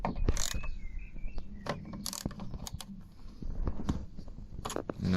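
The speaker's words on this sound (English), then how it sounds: "So loosen this bolt as well." Ratchet wrench loosening a bolt inside a Smart car during cabin filter replacement, giving a series of close, scattered mechanical clicks and metallic crunches with brief pauses between bursts.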